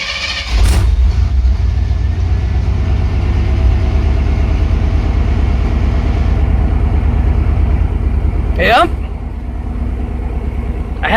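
A 1994 GMC Sierra 3500 pickup with no proper muffler idles with a steady, loud, low rumble that runs throughout. Brief sharper noises break in near the start and near the end.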